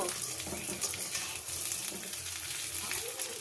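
Rohu fish head fries in oil in a wok, giving a steady, close hiss and crackle of sizzling throughout with no talk.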